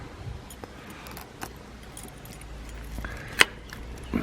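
Keys jingle as an outdoor gate is unlocked, with soft metallic rattles building to one sharp clink near the end, over faint outdoor background noise.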